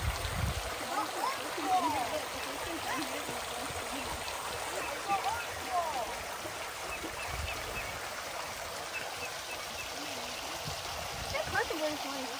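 A stream runs with a steady, soft wash of flowing water in a botanical garden, carrying on throughout while people talk and occasional brief sounds come through.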